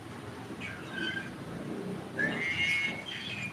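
A horse whinnies with a few high, wavering cries in the middle distance over a steady low background rumble, with no speech.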